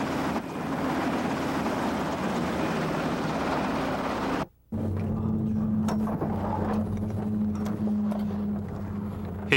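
An air force training helicopter drones with a steady, buzzing engine and rotor hum that cuts out for a moment midway, then returns with a clear low tonal whine.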